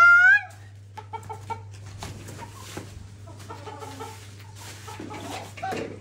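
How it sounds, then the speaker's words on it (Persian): Chickens in a new backyard coop cluck in short irregular bursts, close and fairly loud over a steady low hum, after a brief louder call at the start. "اینم مرغداری جدیدمون"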